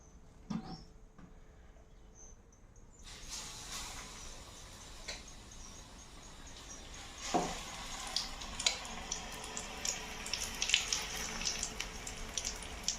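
Mirchi bajji chilli fritters dropped into hot oil, a rising bubbling sizzle after a quiet start, with scattered pops and crackles growing denser, close and moderately loud.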